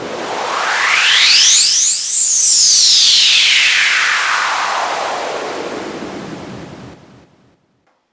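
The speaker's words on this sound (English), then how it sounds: "we've created like a rise or a sweep in Pro Tools just using stock plugins" A synthetic noise sweep built with stock Pro Tools plugins rises in pitch over about two seconds, then slowly falls and fades, a loud whooshing wash similar to surf before cutting off.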